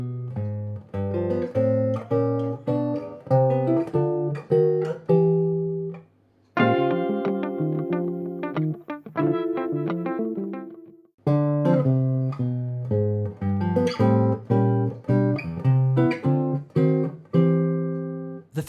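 A slow walking bass line under plucked chords, each note and chord struck separately with short gaps, played cleanly and unhurried.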